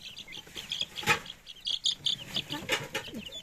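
Growing chicks peeping in quick, high, irregular bursts, close and clear, with a few louder cheeps standing out over a quiet background.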